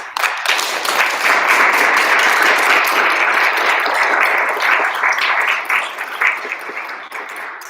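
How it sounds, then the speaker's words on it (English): An audience at a music recital gives the composers a sustained round of applause, a full, even roar of clapping that holds steady for several seconds before thinning out and fading near the end. "So a huge round of applause for all the composers."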